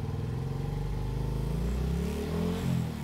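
A Suzuki Raider J Fi 115 motorcycle engine, up close, idles with a rapid throbbing pulse and then revs, the pitch climbing and wavering over a few seconds.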